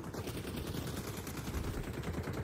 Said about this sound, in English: Oh, I got shot in the back.